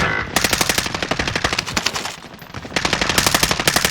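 A full-auto 1911 pistol fires in Call of Duty: Warzone, with loud, rapid bursts of gunfire, a short pause mid-way and then another sustained burst.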